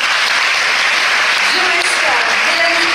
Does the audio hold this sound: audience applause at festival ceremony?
yes